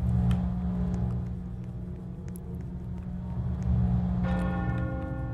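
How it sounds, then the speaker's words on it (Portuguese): A church bell rings in the Rainbow Friends video game, sustained tolling tones over a low steady rumble, with a fresh strike swelling near the end. "Olha só, o sino tocando."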